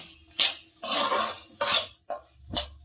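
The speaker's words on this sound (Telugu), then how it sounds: "ఇలా తిప్పండి, కొంచెం అడుగంటకుండా తిప్పుతూ ఉండాలండి." Andhra-style bitter gourd fry stirred in a pan, with a utensil scraping and clinking against the metal in several separate bursts, close and loud with no talk.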